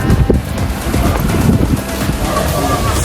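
Gusty wind buffets the microphone in Salam Park, Saudi Arabia, as a low, continuous, close rumble with uneven surges.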